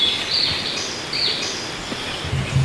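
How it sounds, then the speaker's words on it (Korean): Birds chirp and call faintly in a quiet, green summer mountain forest, with scattered high tweets over a soft, steady background of wind and distant water. "이 조용한 곳에 새소리, 바람소리, 물소리가 가득하네."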